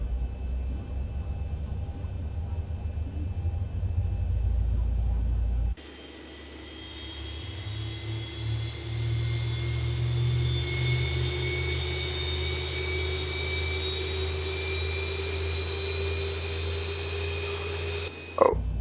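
The engine of a Boeing 737 in the X-Plane 11 flight simulator spools up: a steady whine rises in pitch over a low roar after an abrupt switch from cockpit hum, ending with a short click.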